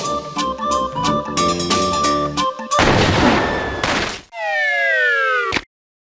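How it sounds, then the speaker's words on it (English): Cannon firing in The Secret of Monkey Island, an explosive roar of noise after a musical passage, followed by a descending whistling tone that cuts off sharply. "Now, put on your helmet, And get in the cannon."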